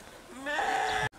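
A goat on a mountain goat pasture lets out a single drawn-out, rising bleat, close and fairly loud, ending abruptly.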